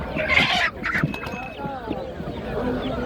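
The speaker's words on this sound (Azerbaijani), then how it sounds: "Bax bu cücələrimiz" Chicks and chickens at a poultry market in Ganja cluck and squawk close by, with busy, overlapping calls over market murmur and voices in the background.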